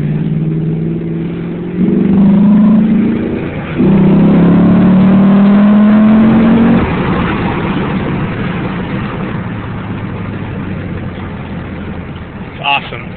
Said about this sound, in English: give it a little bit of gas, and man, this car really, really moves